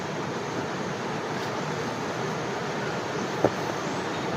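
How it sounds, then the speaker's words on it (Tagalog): Strong river current rushing down from a mountain, a constant broadband roar of fast water that stays steady and loud throughout with no voices, only a faint click near the end. "Agus yung tubig. Malakas ang tubig."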